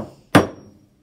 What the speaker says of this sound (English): Test a nail in a hole in an offcut of the knee. It should be a driving fit.